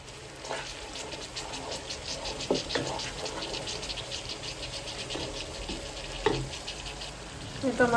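Spice paste stir-fried in a pan for coral fish curry, a steady bright sizzle running throughout with scattered scraping stirs of a spoon against the pan, close and continuous.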